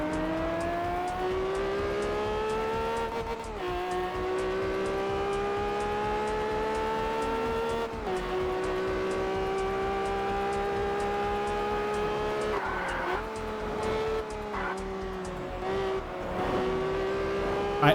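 Lamborghini engine in the racing game Test Drive Unlimited, revving in rising and falling sweeps with gear-shift drops and a burst of tire noise, loud and steady with no voices.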